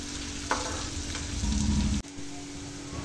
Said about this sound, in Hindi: अब हम वेट करेंगे जब तक कि हमारी जो प्याज है वो गोल्डन ब्राउन ना हो जाए।